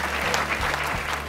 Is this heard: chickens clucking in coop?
no